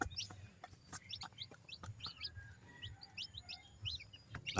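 Backyard pet chickens cluck and chirp repeatedly at close range during feeding, with short bursts of calls scattered over a low rustling background and a few sharp knocks.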